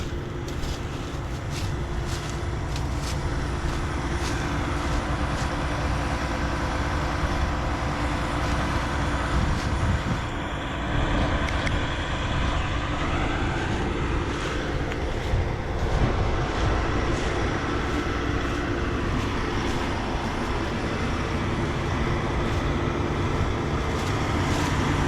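A combine harvester runs in a Mississippi harvest field as a loud, steady mechanical drone with a broad rumble and whine, continuous and close, with no voices.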